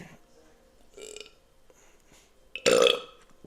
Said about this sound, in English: It takes energy to burp.